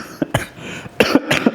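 A man with a cold coughs several times in quick bursts, close and loud, with short pauses between the harsh throat-clearing hacks.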